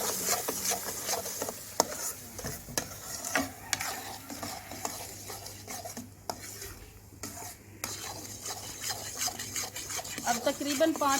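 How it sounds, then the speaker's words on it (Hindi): Spoon stirring an egg and sugar paste into semolina halwa cooking in a pot, soft repeated scraping and rubbing strokes with faint sizzling, fairly quiet and close, with occasional brief voice in the background. "अब जो पेस्ट मैंने बनाया था अंडों का और चीनी का, वो हम इसमें शामिल करेंगे और साथ साथ चम्मच हिलाते रहना।"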